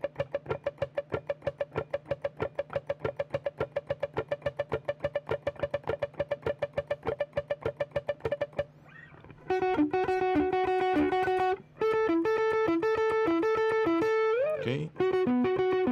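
A rapid, evenly repeating plucked note pulses for several seconds, then picked guitar notes ring out with trailing repeats, a voice speaking briefly near the middle.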